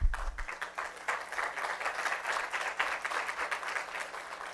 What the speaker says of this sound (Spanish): Vamos a darle un fuerte aplauso al papá